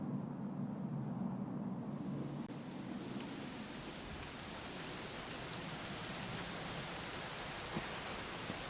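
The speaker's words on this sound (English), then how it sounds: "it was raining like this the last time I ever saw her" Steady, dense rainfall in Dragon Quest XI S hisses continuously, building slightly at the start and then holding at an even, fairly loud level throughout.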